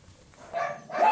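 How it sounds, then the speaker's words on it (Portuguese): A pet dog barks indoors in two short yapping bursts, the second louder, close to the microphone with no talk over it. "Para de latir!"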